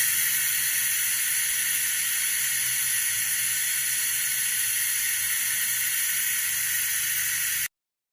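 A vacuum coolant refill tool on a 2013 Range Rover L405 Supercharged cooling system hisses continuously and loudly, a steady airy rush that cuts off abruptly near the end.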